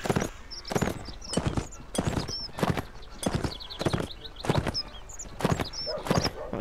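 Horse hooves clattering at a gallop in the Mount and Blade Warband Napoleonic Wars game, a steady rhythmic string of loud thuds repeating about twice a second, close and continuous.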